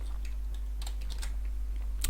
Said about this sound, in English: Sorry for my typing.